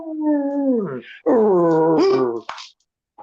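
A dog howls and whimpers in long, wavering drawn-out tones, two sustained cries close by with a brief yip near the end, fairly loud and alone.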